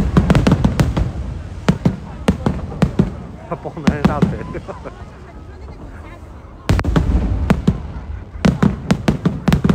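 Fireworks burst repeatedly in sharp, loud pops and booms, watched from the side near a hotel during a New Year livestream, with people talking over the blasts throughout.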